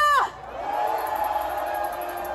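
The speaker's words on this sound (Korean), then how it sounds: "함성 부탁드립니다!" Crowd at an outdoor impeachment rally in Yeouido shouting and cheering, a sustained distant roar just after a voice calls out at the start.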